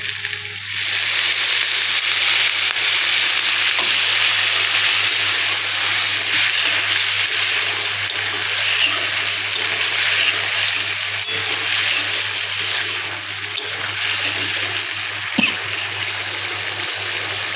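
Paneer curry sizzles steadily in a pan as it is stirred and water is added, making a continuous frying hiss with occasional small scrapes.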